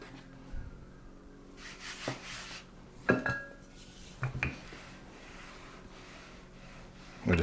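Rolling pin working pie crust dough for a turkey pot pie on a floured counter, with soft rubbing and scattered light knocks and clunks, close and quiet.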